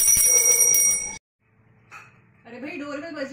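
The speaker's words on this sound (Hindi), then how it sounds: "डोरबेल बज रही" A bright doorbell chime rings at the start, then cuts off abruptly; after a brief silence, voices begin talking.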